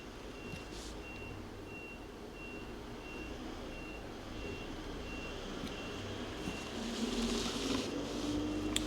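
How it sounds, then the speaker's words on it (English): A truck reverses somewhere outside, its backup alarm beeping steadily and faintly in a regular rhythm over a low engine rumble that grows slightly louder toward the end. "Are the trucks jockeying out there?"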